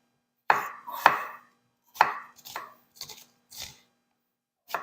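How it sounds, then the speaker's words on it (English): A kitchen knife cuts through an onion on a cutting board, about eight crisp chops in an uneven rhythm, close and clear with quiet pauses between strokes. "Take your onion, slice it along."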